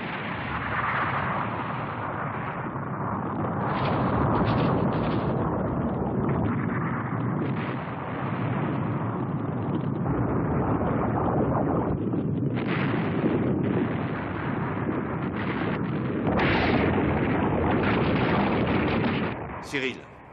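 Gunfire and explosions from the French animated series Bomber X, La Colère du Roi Artus: a sustained, muffled roar of blasts and shots running nearly twenty seconds, with voices talking over parts of it.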